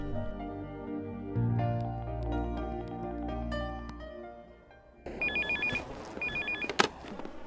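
Soft music plays, then a telephone rings in two bursts of rapid electronic trilling, clear and fairly close.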